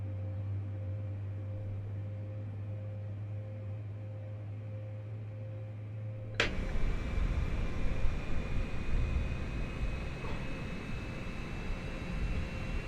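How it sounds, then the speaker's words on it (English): An airliner's number 2 engine spools up in Microsoft Flight Simulator 2020: a low steady hum gives way to a sudden broadband whoosh and rising turbine roar that holds loud and even. "Okay, so engine number 2 is started up"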